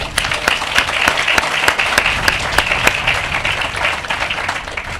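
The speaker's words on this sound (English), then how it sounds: "Please give them another round of applause" Steady applause from an audience at a groundbreaking ceremony for a data technology center, dense clapping with a few sharp individual claps standing out, sustained evenly for the whole stretch.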